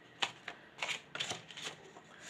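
Tarot cards being shuffled to draw a guidance card, heard as a few crisp, close riffling bursts in quick succession with no talking.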